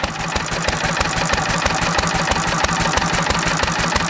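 A small engine running on pure SeaFoam fuel treatment idles steadily with a fast, even, loud chugging firing rhythm that holds for the whole stretch, with no voices.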